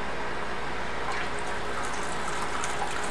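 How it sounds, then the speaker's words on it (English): A grain bag is dunked in water during a mini mash for a hoppy amber ale, giving a soft, continuous watery sloshing and trickling at low level, with no voices. "take this grain bag, and we're going to dunk it a few times"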